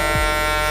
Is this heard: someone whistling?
no